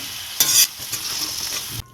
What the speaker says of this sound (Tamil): இப்போ நம்ம கழுவி வச்சுருக்கக்கூடிய இந்த பீஃபை இதில் சேர்த்துருவோம் சேர்த்து நல்லா மிக்ஸ் பண்ணி விட்டுருவோம்